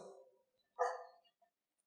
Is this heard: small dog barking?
yes